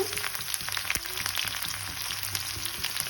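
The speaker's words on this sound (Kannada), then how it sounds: "ಈರುಳ್ಳಿ ಇಟ್ಕೊಂಡಿದ್ದು ಹಾಕ್ಬಿಡೋದಾಗುತ್ತೆ" Onion sizzles and crackles steadily in hot oil in a pan, with a close, continuous frying hiss and small pops, alone without talk.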